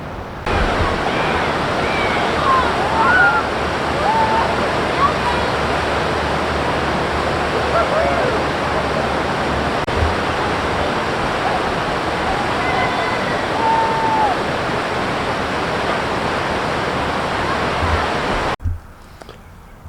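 Snake River rapids seen from the Kahuna overlook on Highway 89 toward the Tetons, a loud steady roar of rushing whitewater that fills the whole stretch and cuts off abruptly near the end.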